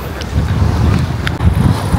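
Strong seaside wind buffets the microphone in a steady loud roar, with waves and surf beneath and faint distant voices.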